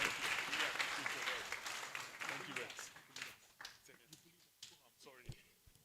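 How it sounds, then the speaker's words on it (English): Dense applause at a conference fills the first few seconds, then thins into scattered claps that fade out. "Let's applaud them once again"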